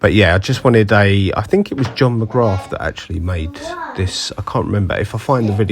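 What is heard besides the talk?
None of the usual background noises is heard.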